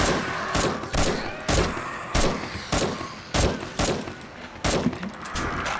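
Single gunshots from a non-automatic firearm in the game 7 Days to Die, about ten loud sharp cracks fired at an uneven, roughly half-second pace over a low steady background.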